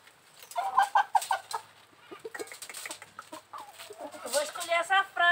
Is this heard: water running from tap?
no